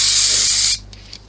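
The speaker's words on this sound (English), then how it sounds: "So I'm going to put a bit of spray on it so it doesn't move." Adhesive spray hisses steadily from a can onto zebra print fabric for about three-quarters of a second, loud and close, then cuts off abruptly, leaving a quiet room.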